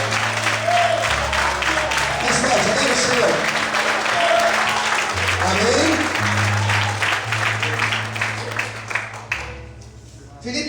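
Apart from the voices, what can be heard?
congregation applauding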